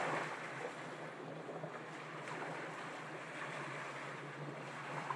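Waves wash continuously against a lake shore in a steady, broadband rush, with wind buffeting the microphone and no voices.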